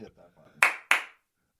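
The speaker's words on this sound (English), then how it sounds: "That's like a slow clap, single clap" Two sharp, separate hand claps ring out after faint murmuring talk, spaced like a deliberate slow clap, close and crisp, then silence.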